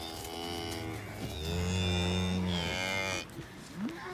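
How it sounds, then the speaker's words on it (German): Galloway suckler cows on a farm giving a long, loud low moo, followed by quieter rustling and faint calls. "Ja, das sind halt fitte Kühe. Die Galloway Mutterkühe."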